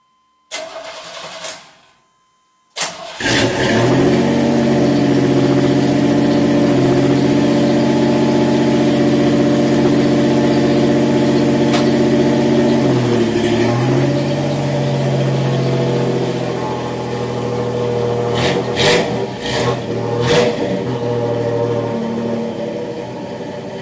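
A 1993 Chevrolet S10 with a 2.8 engine and new exhaust cranks briefly, fires up and settles into a steady, loud, close idle with a deep rumble, holding level for about twenty seconds with a few small revs near the end.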